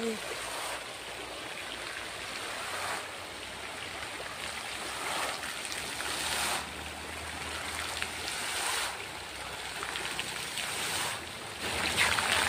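A park fountain splashes in a steady wash of falling water, moderately loud, with soft surges that come and go and faint voices under it.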